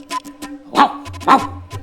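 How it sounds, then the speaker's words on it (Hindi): A fruit-cart vendor's dog barks a few sharp times close by, with short vocal sounds and a low hum in between. "ठेले वाले के कुत्ते ने मुझे देख लिया।"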